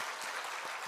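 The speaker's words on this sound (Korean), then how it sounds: "박수라도 좀 이렇게" Church congregation breaks into applause after a hymn, a continuous crowd clapping with a few distinct claps standing out, steady and fairly close.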